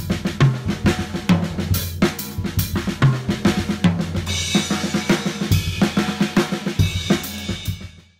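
A drummer plays a slow triplet-feel break every fourth measure, with evenly spaced drum and cymbal hits forming a loud, bouncing pattern that continues alone without talk and stops abruptly at the end.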